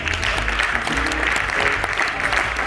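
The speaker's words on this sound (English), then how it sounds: "That is a terrible hand clap." Church congregation applauding in a steady, dense wash of clapping with low rumble underneath, moderately loud and close, continuing without a break.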